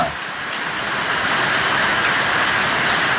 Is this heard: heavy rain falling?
yes